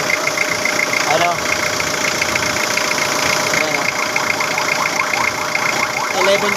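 Toyota Hilux 2L diesel engine idling with a steady, slightly knocking mechanical drone, heard close, with people talking over it now and then.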